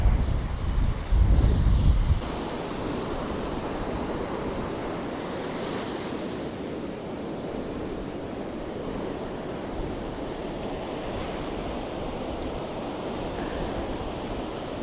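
Atlantic surf washing onto a beach along the Portuguese Camino coast, a steady close roar of breaking waves that runs throughout, heaviest and gustiest in the first couple of seconds, with no voices.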